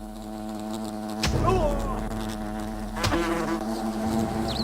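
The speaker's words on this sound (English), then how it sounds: "kill all the wasps in the picnic area" Wasps buzz around a picnic area in the video game Fable: The Lost Chapters, close, loud, wavering drones with two sharp swells as insects sweep past, no speech.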